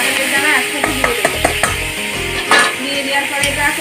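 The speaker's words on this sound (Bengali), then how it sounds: "দেওয়ার পরে এটা হালকা করে নেড়ে এর ভিতরে আমি এই সেদ্ধ করে রাখা ঘাটকল আর কাঁঠালের দানা একসাথে দিয়ে দেব" A spoon stirs boiled ghatkol and jackfruit seeds in a pan, making irregular clicks and scrapes against the metal over a low frying hiss, with a few sharper knocks in the middle.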